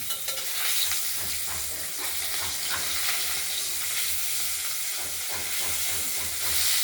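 Pabda fish frying in hot oil in a pan, a steady bright sizzle and hiss with occasional stirring scrapes, close and continuous with no talk.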